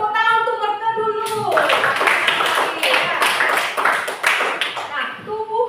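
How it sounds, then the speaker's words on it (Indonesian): A class of students claps together in a burst of applause that starts abruptly and holds steady for several seconds, with a teacher speaking just before and after it. "Oke, tepuk tangan untuk mereka dulu."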